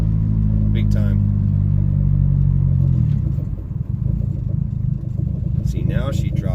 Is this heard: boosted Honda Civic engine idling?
yes